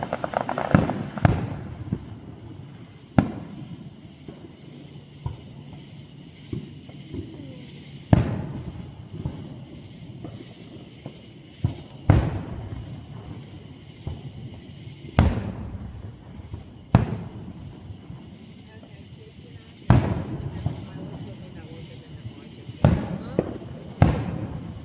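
Fourth of July fireworks display over downtown Woodstock, Georgia, with sharp loud bursts and booms recurring every few seconds, some in quick pairs, over a steady crowd murmur and people talking nearby.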